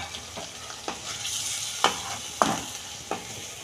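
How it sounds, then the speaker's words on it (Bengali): Water is poured onto a sizzling fried mustard-poppy spice paste in a pan for pabda fish curry. Repeated sharp bursts of hissing and spattering come and go over a low, steady sizzle, close and without voices. "আমি অল্প পরিমাণ জল দিচ্ছি"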